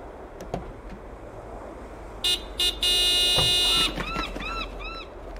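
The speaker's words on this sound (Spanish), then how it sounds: "Toca el claxon de la furgoneta, por favor." A van horn honks in the Broken Sword 5 video game: a short blast, a second short blast, then one long sustained tone, loud and clear over a quiet background, followed by a few fainter chirps.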